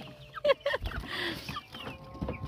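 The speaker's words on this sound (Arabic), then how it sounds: "شايفين ده ديك تاني، بصوا ديك بلدي" Egyptian baladi chickens and a rooster cluck in short bursts close by, with scattered calls and rustling between them, and no talking.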